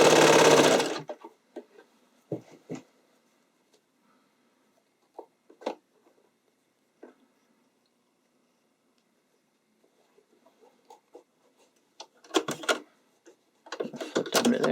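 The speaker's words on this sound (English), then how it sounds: "Sewing through all 4 layers at all times." A sewing machine stitches a spandex sleeve through four layers in short separate bursts of whirring with quiet gaps between them. A longer, louder run of stitching comes near the close.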